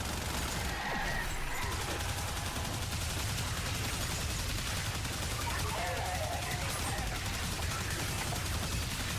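Continuous rapid fire from the Soma rifle in Warframe, a dense unbroken rattle of shots at steady loudness throughout, with someone talking over it.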